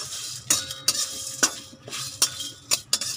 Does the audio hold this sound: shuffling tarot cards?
no